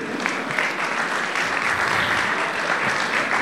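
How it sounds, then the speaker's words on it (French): Dense, sustained applause from a large audience welcoming the jury at a packaging awards ceremony, loud and continuous throughout with a slight crowd murmur. "Mesdames, Mesdemoiselles et Messieurs, sous vos applaudissements"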